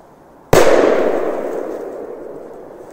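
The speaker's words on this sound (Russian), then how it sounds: "поставим здесь супер бангер P5000 от фирмы Фурор" A Furor Super Banger P5000 firecracker detonates in a snow pile with one loud, sharp blast after half a second of quiet, its roar decaying slowly over the next two seconds.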